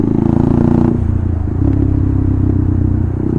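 A KTM Duke 390 motorcycle rides on a highway at night, its engine droning loud and close with a steady buzzing note that shifts pitch partway through, over rattling road noise.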